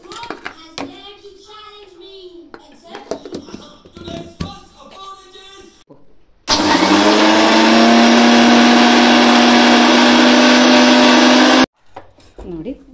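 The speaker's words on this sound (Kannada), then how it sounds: "ಅರಳುಪ್ಪನ್ನ ಸ್ವಲ್ಪ ಮಿಕ್ಸಿಗೆ ನುಣ್ಣಗೆ ಮಾಡ್ಕೊಂಬಿಡೋಣ." Mixer grinder whirring steadily at full speed as it grinds rock salt to sharpen its blades, a loud continuous motor roar lasting about five seconds, preceded by kitchen handling noises and followed by a brief clatter.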